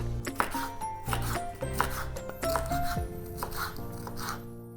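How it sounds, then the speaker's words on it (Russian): A knife cuts a bell pepper into strips on a cutting board in quick, uneven strokes, close and fairly quiet, with light clinks between the cuts. "Перец нарезаем соломкой."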